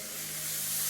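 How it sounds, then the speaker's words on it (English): A brief, soft, continuous sizzle, a fizzing hiss of steak searing in a hot pan with a low hum beneath. "You want to make sure that you can hear that sizzle."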